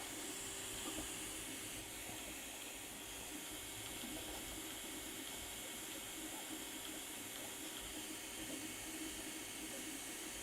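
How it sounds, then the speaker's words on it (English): An AnkerMake M5C high-speed 3D printer runs with a continuous whirring, hissing mechanical noise of belts and wheels, steady and close at a low level, with no one talking. "This is just the noise of the printer."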